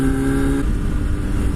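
A motorcycle engine revs hard as the clutch is popped for a wheelie, a loud close buzzing roar that holds steady with the throttle kept open.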